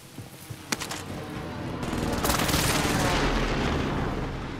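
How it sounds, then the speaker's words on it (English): Explosions from an enemy precision airstrike in a military shooter video game: a sharp crack early on, then a long, loud rumbling roar of blasts that swells and stays sustained, with no talking. "Enemy precision airstrike."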